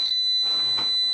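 A person-distance detection system sounds a steady high-pitched electronic alarm tone that holds constant throughout, loud and continuous, with faint background noise beneath it.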